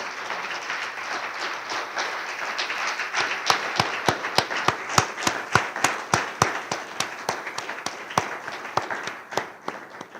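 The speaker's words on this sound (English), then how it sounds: "Let's give one round of applause to all the winners that are here" Crowd applause for award winners at a professional awards presentation, starting as a soft diffuse patter and building into sharper, distinct claps, including a few individual hands rhythmically clapping close by, with no talking over it.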